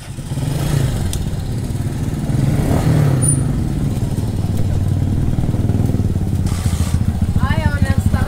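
Motorcycle engine starting up, rough starter cranking followed by a steady idling rumble with clattering, fairly close and loud, and voices talking over it.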